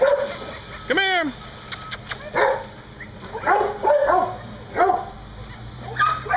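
A happy female puppy, just let out of a kennel, gives a few sharp yips and barks in short bursts alongside other dogs, close by, while a person talks over and between them.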